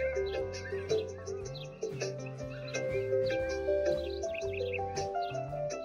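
Happy tune from a Barbie Dreamhouse toy by Mattel (2021), played after its yellow sun button lights the house, with birds chirping behind it; steady melodic chimes and bass notes fill the whole stretch at moderate loudness.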